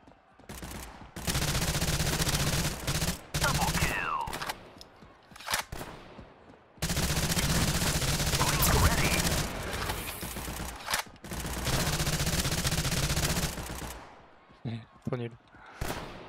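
Submachine gun fire from the first-person shooter False Front, long sustained bursts of loud rapid automatic shots that break off briefly and resume, with a few short scattered shots at the end.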